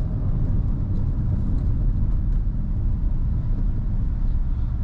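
A Beijing X55ii car accelerating in sport mode, giving a loud, steady low engine and road roar heard from inside the cabin, with no talk.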